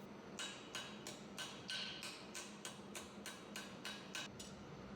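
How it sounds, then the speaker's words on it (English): A ball peen hammer strikes metal over the hardy hole of an anvil while forging a leaf charm: about a dozen sharp, ringing blows in a steady, even rhythm, close and clear with no talking. "I'm using a ball peen hammer over the hardy hole here"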